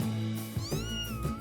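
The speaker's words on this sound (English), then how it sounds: "When a cat meows, rubs against you," An adult cat meows twice up close, a rising then falling cry followed by a shorter second call, with no voices present.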